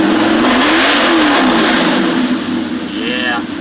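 A 358 NASCAR-style V8 with a 350 stroke crank and 565 rods, fitted with 1.6 ratio rockers, revs hard and loud up close, its pitch rising and falling through several sweeps before easing off near the end.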